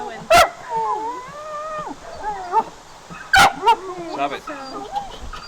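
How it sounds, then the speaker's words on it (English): Dogs at an RV site break into a burst of high, yipping barks and whines, two sharp loud outbursts with wavering whimpers between them, close by. "The dogs are going."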